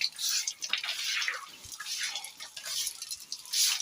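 Manure water draining out through a pipe in a goat pen, a steady trickling and dripping flow with a few faint low knocks, heard alone at moderate level.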